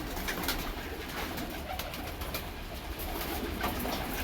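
Pigeons coo and flutter close by while being fed grain, a dense, continuous bed of soft calls with broadband rustling throughout and no talking.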